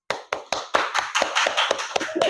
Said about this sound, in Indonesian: Mari beri tepuk tangan untuk kelompok melon.